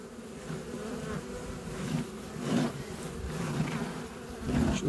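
Honey bees buzzing inside a beehive disturbed by a mouse, a steady dense hum with swelling louder passages, close and continuous with no voices.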